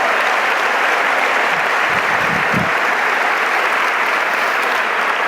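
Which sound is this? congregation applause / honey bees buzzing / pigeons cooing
congregation applause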